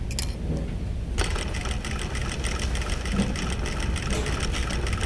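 A sewing machine runs steadily, stitching along the folded edge of fabric on a curved seam, giving a continuous close mechanical whir with a fast even rhythm and no pauses.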